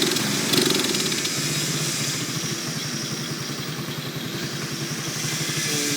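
A small go-kart engine runs steadily in reverse gear, a close, continuous buzzing drone with a fast pulsing beat and a brief louder burst near the start.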